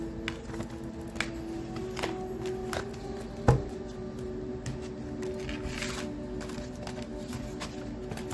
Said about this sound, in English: Let me just pick up these cards first, because I don't like shuffling on top of cards.